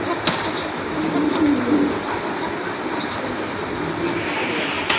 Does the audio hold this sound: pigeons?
yes